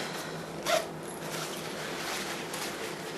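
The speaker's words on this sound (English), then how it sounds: "but then you unzip it" A packable travel backpack is unzipped up close, with one short, sharp zipper rasp early on over a quiet background.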